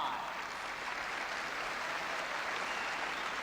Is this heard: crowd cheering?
yes